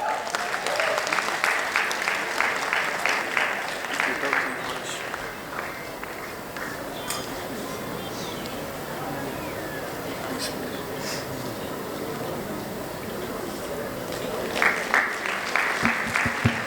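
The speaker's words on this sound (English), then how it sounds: "Please put a big round of applause for the fashionista of our batch, Dr. Trina Mondol." Applause for an honoree at a medical college convocation, steady crowd clapping sustained over many seconds, swelling slightly near the end, with faint voices and stage noise underneath.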